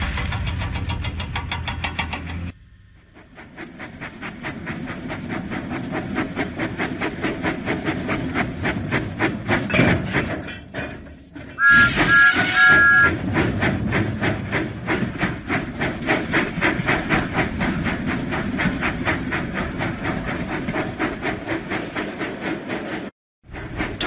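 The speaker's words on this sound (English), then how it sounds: "Thomas pumped his pistons and puffed out of the docks." In a Thomas the Train video game, Thomas the steam engine chuffs out of the docks with a loud, steady rhythmic mechanical churning, a short quiet gap near the start and a brief whistle-like burst midway, no talk.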